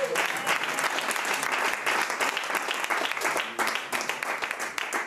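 A church congregation applauds in loud, dense, steady clapping that carries on without a break throughout.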